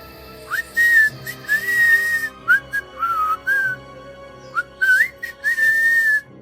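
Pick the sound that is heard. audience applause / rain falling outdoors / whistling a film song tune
whistling a film song tune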